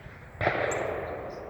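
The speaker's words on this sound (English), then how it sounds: "It's unfortunately hunting season, and they've been shooting non-stop here" A single sharp, distant hunting gunshot bursts out, followed by a lingering rolling echo across open ground.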